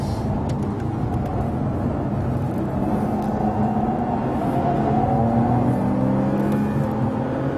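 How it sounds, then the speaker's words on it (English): A Bentley Supersports at the Nurburgring, heard as a steady engine and road roar from inside the car under braking, continuous and fairly loud with no speech. "I'm driving the most extreme Bentley, and it's really very nice feel to it."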